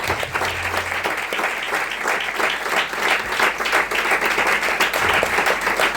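A church congregation claps in praise, a dense, steady wave of applause filling the room throughout without a break.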